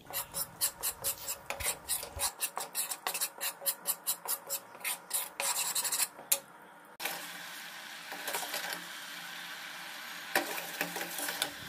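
Gram flour (besan) roasting in ghee in a kadhai, with about six seconds of rapid rhythmic scraping strokes from stirring, then a steady close frying hiss with occasional louder scrapes.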